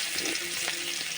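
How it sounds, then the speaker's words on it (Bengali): Onions sizzle and fry in a hot wok for a shrimp and vegetable chorchori, a steady close hiss with a faint tonal hum and a few soft stirring touches. "এবারে আমি এই পেঁয়াজ তুলে দিচ্ছি।"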